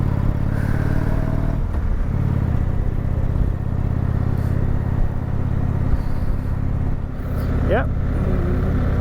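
A motorcycle engine rumbles steadily through the whole ride, loud and close, with a passenger riding on the back; a brief spoken word sits over the continuous drone.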